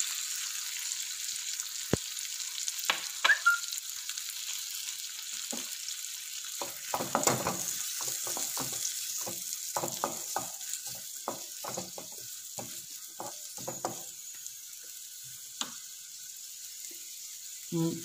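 Onions sizzle in melted butter in a hot pan for a paneer butter masala, giving a steady bright frying hiss broken by irregular stirring clicks and scrapes, with no talk.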